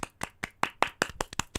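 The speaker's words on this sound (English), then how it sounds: "Clap it up." A few people clap together in a short burst of about nine uneven claps, close and fairly soft, without voices.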